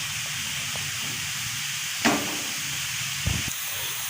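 Mixed vegetables simmering in chicken stock give a steady, soft hiss of steam and bubbling, with a couple of brief louder spurts, close and quiet, and no voices.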